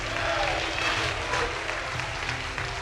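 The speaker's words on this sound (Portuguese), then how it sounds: "se vocês querem aplaudir, aplaudam ao Senhor" A church congregation applauding during a sermon, a steady broad wash of clapping that fills the whole stretch at an even level, with faint voices blended underneath.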